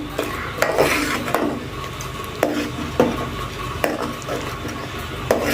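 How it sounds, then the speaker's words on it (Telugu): Thickened rabdi is stirred slowly after cashew powder and cardamom powder go in, with a spoon scraping the pan in regular strokes about once a second over a low sizzling hiss. "ఇది యాలకుల పౌడర్ అండి. మెల్లగా కలిపేసుకుందాము."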